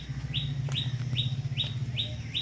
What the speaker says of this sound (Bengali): সুন্দর পাখি ডাকছে